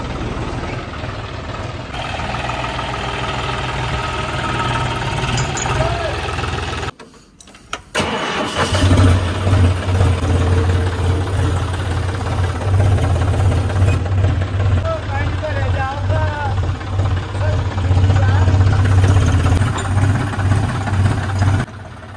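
A John Deere 5050D tractor engine runs steadily with a low rumble, briefly cutting out before idling on loudly, with a voice talking over it.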